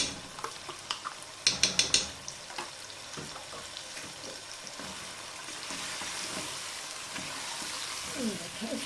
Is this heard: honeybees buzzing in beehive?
no